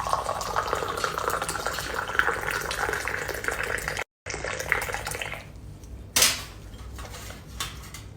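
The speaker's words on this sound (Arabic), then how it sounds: "تصيروا تقلبون الشاي في البراد" Sweetened tea poured back and forth into a teapot to mix in the sugar, a steady close splashing trickle with a brief break and a sharp splash toward the end.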